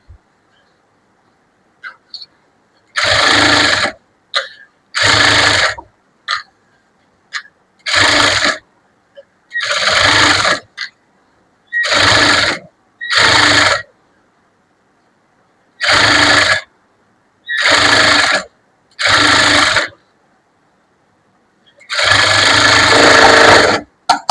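A sewing machine stitches a lined blouse in short, loud, repeated bursts of whirring needle action, each separated by brief silences as the fabric is turned.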